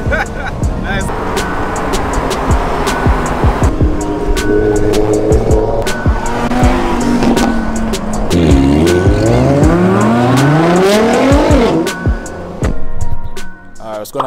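Nissan GT-R R35 street car heard from inside the cabin on a night run in Jamaica, its exhaust roaring through rising gear pulls with sweeping pitch climbs, shift breaks, and loud, close engine tone throughout.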